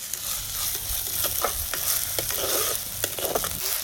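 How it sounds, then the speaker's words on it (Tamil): Fennel seeds spluttering and sizzling in hot oil in a pan for a village-style squid roast, a continuous frying hiss dotted with small pops and crackles, outdoors with no talking. "சோம்பு பொரிஞ்ச உடனே"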